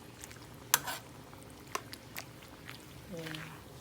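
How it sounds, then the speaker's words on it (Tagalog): A spoon stirs dinuguan, a pork blood stew, in a cooking pot, with faint scraping and a few clinks of metal on the pot, quiet and close under a brief voice. "Tapos haluin nyo lang po siya ng ganyan."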